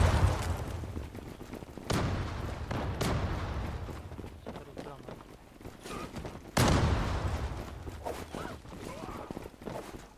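Bombs go off in a video-game fight at the Maiden's Tower, several sharp blasts spaced a few seconds apart, each with a booming decay, amid scattered gunfire-like cracks and a few footsteps.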